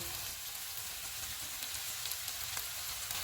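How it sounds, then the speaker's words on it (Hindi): Potatoes and chicken fry in a pan over medium-high heat, giving a steady, loud sizzling hiss with faint crackles throughout. "चूल्हे को मीडियम टू हाई रखेंगे और इनको 1 मिनट तक फ्राई करेंगे। आलू डालेंगे, चिकन डालेंगे,"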